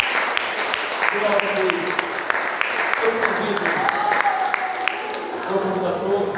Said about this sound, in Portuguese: Uma vez mais, as palmas engrandecem a Jesus Cristo.